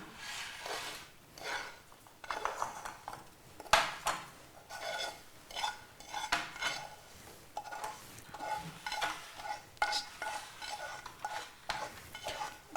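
Roasted semolina mixture stirred in a metal pan, a spoon scraping and clinking repeatedly in an uneven rhythm, close and fairly loud, with a soft sizzle underneath.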